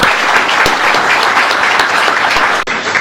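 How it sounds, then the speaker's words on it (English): An audience at a road safety society memorial gathering applauds its presenters with steady, dense clapping that fills the room, cutting off sharply near the end. "Can I please get a round of applause for all our presenters tonight?"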